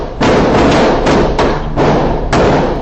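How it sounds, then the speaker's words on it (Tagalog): Successive gunshots ring out near stopped vehicles on the NLEX expressway, caught from inside a car: about five loud, sharp reports at uneven intervals over a constant engine and road rumble, with no talk. "maririnig ang magkakasunod na putok ng baril habang nakahinto ang mga sasakyan"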